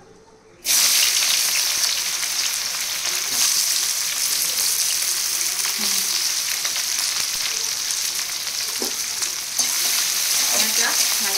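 After a brief quiet moment, onions drop into hot oil and a loud, continuous sizzle takes over, steady and close with occasional stirring scrapes.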